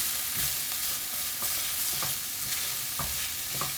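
A spatula stirs and scrapes tomato paste as it toasts in a stew pot, giving soft repeated scraping strokes roughly every half second over a low steady sizzle, close and alone with no talking.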